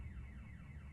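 A security system's alarm beep in the video game The Occupation: a steady, loud, repeating electronic warble that sweeps up and down in fast even cycles, heard alone.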